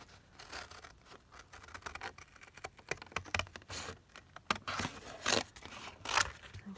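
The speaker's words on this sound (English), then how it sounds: "And then let's cut this out." Scissors cut out a paper butterfly embellishment for a vintage frame craft, giving quiet, close snips and crisp paper rustles in an irregular rhythm.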